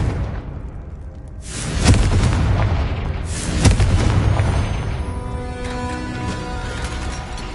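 A Confringo fire spell from a Harry Potter video game, heard as two heavy booming blasts about two seconds apart. Each rings out over a steady rumbling game backdrop that carries on after them.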